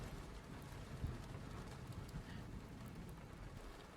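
Rain in a visual novel video game: a faint, steady wash of falling rain with soft scattered patter, low and continuous throughout, with no voices.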